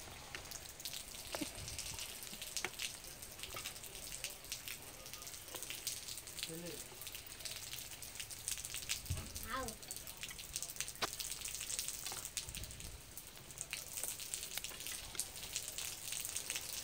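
Fritters of leftover rice batter, punugulu, fry on a low flame with a faint, rain-like crackling patter of oil, quiet and steady, while a person talks over it.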